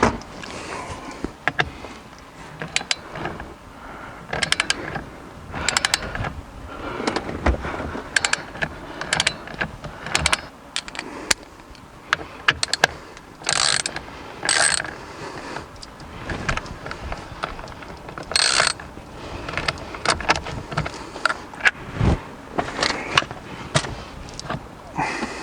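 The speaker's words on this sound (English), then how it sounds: "now we have the single bolt to remove" A ratchet works loose the single bolt holding a Saab 9-3 Aero steering wheel, giving bursts of rapid mechanical clicking and clunks up close, interrupted by pauses and scraping handling noises.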